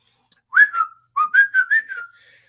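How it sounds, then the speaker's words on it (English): A person whistling a short tune, clear and close: two rising notes, a pause, then a quick run of five or six notes trailing off, with no talking. "Should I whistle while I work?"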